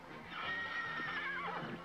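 A wild horse neighs loudly and close in a single drawn-out whinny, with faint hoof clops beneath it.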